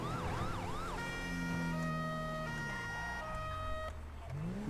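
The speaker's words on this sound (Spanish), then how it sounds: "Ah, mira, ahí está la ambulancia" An ambulance siren wails in LSPDFR, a police mod for GTA V, with a rising and falling tone at the start. Steady tones and engine sounds from the game continue underneath.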